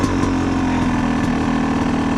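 A Yamaha YZ250X two-stroke dirt bike idles close by, a loud, steady, even burble with a fast regular pulse that holds unchanged throughout.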